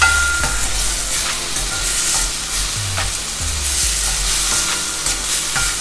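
Kerala-style scrambled egg masala being stirred steadily in a frying pan, with a continuous close sizzle and repeated scraping strokes of the spoon, no voices.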